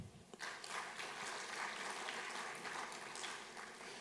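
An audience applauds at the Africa Climate Investment Summit 2025 in Kenya, a faint, distant and steady wash of clapping lasting a few seconds with no talk over it.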